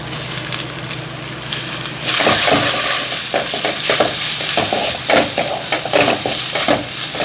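Onions fry in a pan with ginger garlic paste for fish sukka, giving a loud, continuous close sizzle with repeated stirring scrapes that grows more intense partway through, and no voices.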